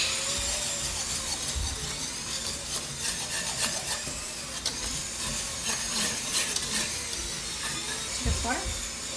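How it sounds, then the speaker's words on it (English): A whisk scrapes and rubs through flour stirred into a cooking mixture in a pan, producing irregular scratchy strokes, with a person talking over it. "I'm going to take the whisk, and I'm going to take some flour and sprinkle it with the flour"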